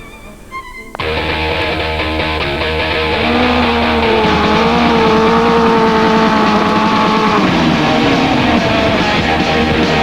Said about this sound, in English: the mighty roar of dirty great motorbikes.